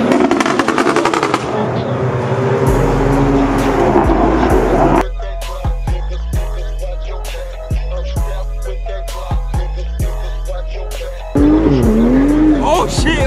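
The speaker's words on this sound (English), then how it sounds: "There's a Supra right there." A Toyota MK5 A90 Supra revs hard over music, its engine rising and dropping between sharp repeated bursts and pops, loud and close throughout.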